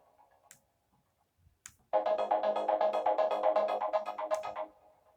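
A MIDI note triggered from TouchDesigner sounds in Ableton Live as a single sustained synth tone lasting under three seconds, preceded by a few faint clicks and a brief quiet pause.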